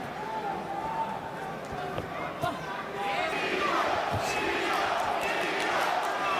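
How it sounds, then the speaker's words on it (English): A New York crowd at a Teofimo Lopez versus Sandor Martin boxing bout chants, a broad rumbling swell that grows louder partway through, with an announcer talking over the arena noise. "And now you hear the chant from the New York crowd"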